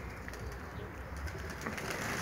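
About eighty young pigeons in a loft coo in a soft, low murmur, with occasional wing rustles under a constant, noisy background.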